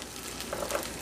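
Slices of bread laid into hot oil in a frying pan for a BLT with egg and cheese on raisin bread, giving a steady, close sizzle and crackle that holds evenly throughout with no talk.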